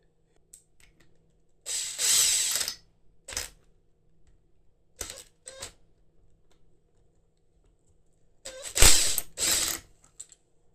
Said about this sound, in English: That bolt comes off anti-clockwise as well, so we'll get that off.